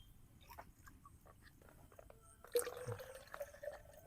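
Water is poured into a bamboo stalk packed with rice and chicken pieces for bamboo chicken biryani: quiet drips and small splashes at first, then a fuller trickling pour near the end, faint and close.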